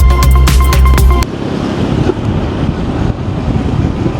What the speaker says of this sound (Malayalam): ആഹാ എന്താ നല്ല കാറ്റ്